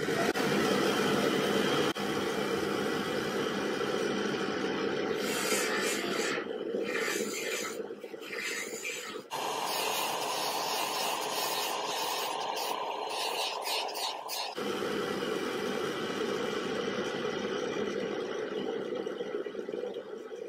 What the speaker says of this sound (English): at the buffing wheel, we polish with some polishing compound and a cotton wheel